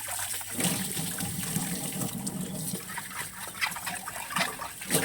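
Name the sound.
water while cleaning a clay cooking pot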